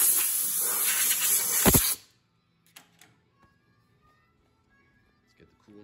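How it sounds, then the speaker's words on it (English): A loud hiss of compressed air spraying metal chips off a CNC lathe for about two seconds, then cutting off abruptly, leaving near silence with a few faint clicks and knocks. "Spray the chips."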